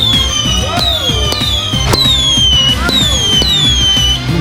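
Consumer fireworks going off in rapid succession, loud sharp bangs repeating roughly every half second along with descending whistling screams, close and continuous.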